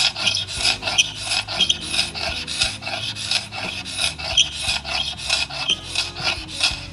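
A hand scraper drags back and forth over a wood floor with cross scratches, giving a rhythmic, raspy scraping at a brisk, even pace, close up and continuous, with no voices.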